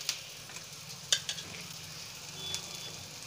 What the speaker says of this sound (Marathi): असं तेलामध्ये भाजून घ्यायची थोडीशी, आणि झाकण ठेवण्याची काही गरजही नाही